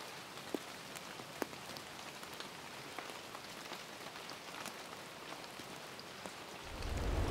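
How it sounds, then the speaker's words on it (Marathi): Evening rain falls outside a 125-year-old village house in Kokan, a soft, steady patter with a few sharper drips standing out, ending in a low rumble swelling near the close. "संध्याकाळची वेळ आहे आणि बाहेर मस्त पाऊस पडतोय"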